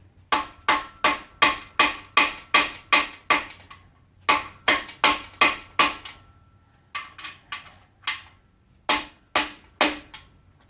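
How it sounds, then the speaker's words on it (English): Hammer blows drive freeze plugs into a Ford 428 engine block from a 1964 Galaxie 500, sharp metallic strikes in close, steady bursts of six to eight with short pauses between runs, loud and near with no talking. "I'm not going crazy with this hammer"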